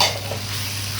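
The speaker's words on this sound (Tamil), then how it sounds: "நல்லா வதக்கிடுங்கம்மா. அப்போ தான் வாசனை போயிடும்" Spices sauté in a hot pan for country chicken soup, giving a brief burst of close, steady sizzling and crackling hiss, with faint stirring and no voices.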